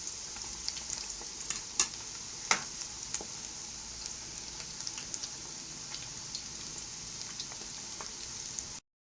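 Rice kofta meatballs fry in hot oil in a pot, giving a steady, close sizzle with scattered crackles and pops throughout, heard alone until it cuts off abruptly near the end.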